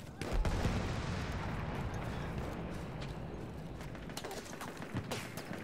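Bursts of gunfire crack repeatedly over a dense, noisy battle din in the video game Battlefield 1, sharp reports scattered irregularly through a continuous background roar.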